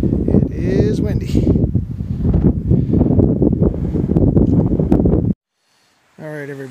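Strong gusty wind buffets the microphone with a loud continuous rumble for several seconds on a trail in the Shenandoahs near Turk Gap, then cuts to silence before a short burst of other sound.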